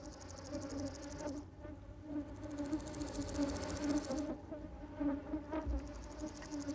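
A bee hums while flying among iris blossoms in a highland flower meadow on Jirisan, its faint, continuous drone rising and fading as it passes nearby, with no voices.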